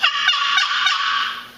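A softer, raspy turkey box call yelp sequence imitating a submissive hen, three or four gentle notes blending into a continuous scratchy tone that fades at the end.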